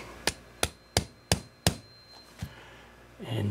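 A small tappet hammer taps metal on a 1998 Evinrude 5 hp outboard motor five times in a steady rhythm, then once more softer after a pause, crisp and close.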